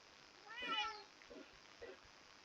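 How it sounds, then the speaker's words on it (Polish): A faint Minecraft cat meows once, followed by two shorter, softer mews, quiet and close over a low background hiss. "Tak, zdecydowanie kot."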